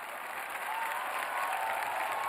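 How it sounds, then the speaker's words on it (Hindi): Studio audience on an Indian TV talent show breaks into loud, sustained applause for a performer, a dense, steady wash of clapping that swells slightly and holds throughout. "रियली जोरदार तालियां यार वैष्णव के लिए"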